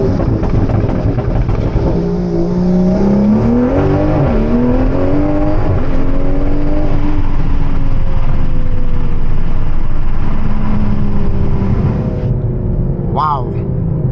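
Toyota Supra with a hybrid turbo pulls hard in second gear, a loud, close engine note climbing steadily in pitch under continuous talk, easing off near the end with a short whine.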